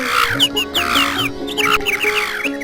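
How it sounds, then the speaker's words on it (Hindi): Several birds call and chirp in quick, overlapping bursts over a steady tonal hum, fairly close and lively throughout. "आज पक्षियों की चहचहाट भी सुनाई दे रही है।"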